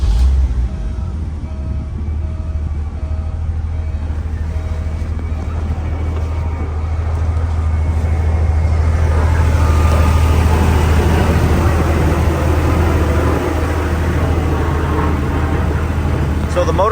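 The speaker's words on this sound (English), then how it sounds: "So the motor sounds excellent." A 1995 Porsche 993 flat-six engine, a low-mileage car with tree damage, idles steadily with a low, even rumble throughout, growing slightly louder and rougher partway through, with wind noise at the microphone.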